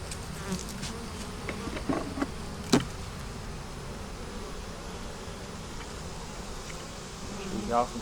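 Honey bees hum steadily around an open beehive set in the shade, a soft continuous drone with a few nearer passes, faint and low throughout.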